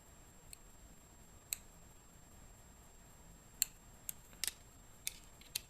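Scissors snip nylon thread from a full lace wig, giving a handful of crisp, quiet clicks spaced irregularly over a soft, steady background hiss, with no talking.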